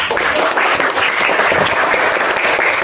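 A classroom of students applauding during an economics lesson, dense sustained clapping at fairly loud level with no talking over it.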